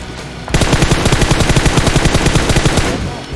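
Enemy gunfire in PUBG Mobile: a loud, sustained automatic burst of evenly spaced rapid shots, close and continuous for roughly two and a half seconds before tapering off.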